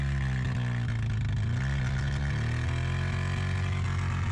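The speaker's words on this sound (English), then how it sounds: "The engine sound is a nice growl." An abandoned Spider-Man car's engine runs steadily with a low, rough growl and a throbbing pulse that swells and dips slightly, close and loud, with no voices over it.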